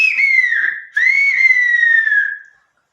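A whistled Tenerife phrase in the Canary Islands whistled language, two clear sustained high tones with sliding pitch, the second longer and gradually falling, close and alone.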